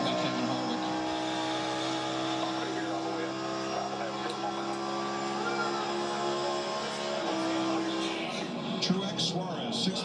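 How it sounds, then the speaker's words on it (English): A NASCAR race car at the 2023 Pala Casino 400 roars steadily, engine tones shifting as it downshifts, with crowd and commentary speech layered underneath the continuous engine drone. "Downshift there by Kevin Harvick."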